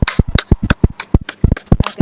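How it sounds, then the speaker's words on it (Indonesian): A small classroom group claps for Muji's group after their presentation, a quick, uneven run of sharp, close hand claps lasting about two seconds. "Tepuk tangan untuk kelompoknya Muji"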